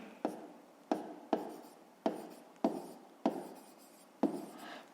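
Pen or chalk writing out a school math solution, seven evenly spaced strokes, each a sharp scratch that trails off, close and quiet.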